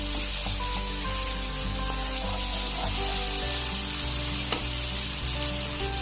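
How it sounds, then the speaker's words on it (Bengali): Steady, loud sizzling of a spice paste frying in hot oil until the oil separates, for aloo dum, continuous throughout with faint scraping of stirring and no voices. "একদম তেল উঠে গেছে আর মশলাগুলো ভাজা ভাজা বোঝা যাচ্ছে"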